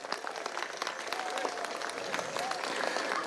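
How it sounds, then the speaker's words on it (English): Audience applause at a pow wow crowd gathering, a sustained patter of many hands clapping at moderate distance that holds steady and swells slightly toward the end. "Round of applause."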